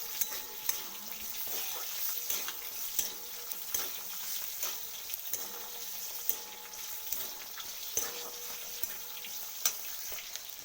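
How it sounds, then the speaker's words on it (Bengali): Bottle gourd peel with poppy seeds fries in a pan while being stirred, a soft constant sizzle broken by frequent scraping and tapping strokes of a spatula. "এরপর ভালো করে আরেকবার নাড়িয়ে নিতে হবে।"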